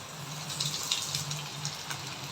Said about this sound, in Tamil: பால் இது மேலே ஊற்றி அப்படியே எடுத்து சாப்பிட்டா ஜூஸியாக சூப்பராக இருக்கும்